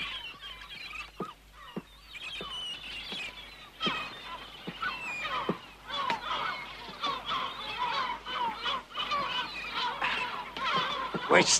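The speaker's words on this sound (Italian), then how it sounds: "C'è un fantastico volo di uccelli da nord verso sud-ovest!" A flock of birds calls in flight with goose-like honking, many overlapping cries and squawks over steady low background noise, with no speech.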